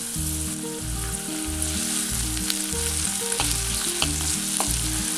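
Chopped tomato frying in a pan with cooked potatoes for sabudana khichdi, giving a steady broadband sizzle with occasional stirring clicks, up close and continuous without any talk.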